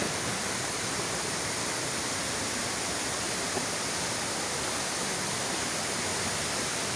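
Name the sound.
rushing waterfall at an abandoned campsite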